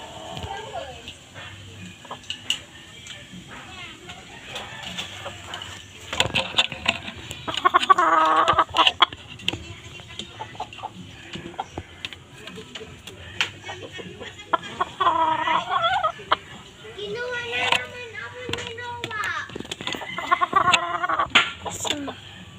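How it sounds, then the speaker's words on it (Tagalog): Backyard chickens cluck and squawk close by in a loose, irregular chatter, mixed with other farm animal calls and people talking nearby. "Ano po yung manok namin."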